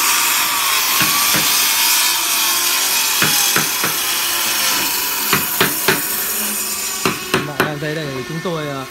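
Hand saw cutting thick mahogany in a woodworking shop for a carved panel, with a steady rasp under the background noise and, late on, a run of sharp knocks and strokes as the work speeds up.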